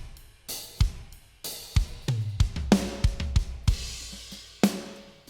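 A studio drum kit mix, with a Waves Aphex exciter plugin blended in on a parallel bus, plays kick thumps, snare cracks and crisp cymbal and hi-hat hits in a lively, close, bright groove.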